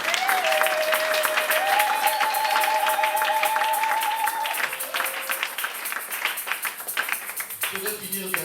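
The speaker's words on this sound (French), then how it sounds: "est-ce qu'on peut acclamer pour le Seigneur?" A church congregation at a Sunday worship service applauds and cheers loudly and continuously, with a sustained held tone over the crowd before the noise thins into scattered claps near the end.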